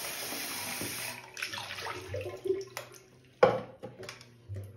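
Water pours and splashes out of the dirty-water container of a Hizero floor cleaner into a sink, with irregular gushes and a few clattering knocks close by.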